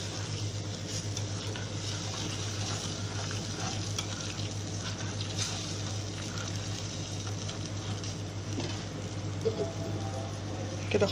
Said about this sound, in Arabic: اول ما تبدأ تغلي كده هنرفعها من على البوتاجاز